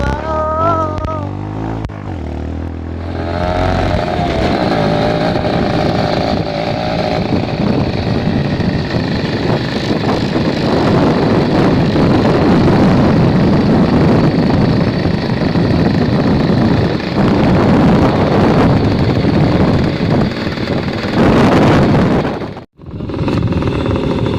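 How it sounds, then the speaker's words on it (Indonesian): A motorcycle ridden fast gives a loud, steady engine roar with wind buffeting, close to the microphone for about twenty seconds before cutting off abruptly near the end. "Mas de motor iki garape banter lho."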